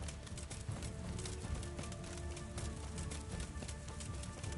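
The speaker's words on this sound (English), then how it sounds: "my horse never threw me off like that before" Horse hooves clip-clopping steadily in the video game Kingdom Come: Deliverance, a continuous galloping rhythm under rushing, noisy ambience, moderately loud with no clear whinny standing out.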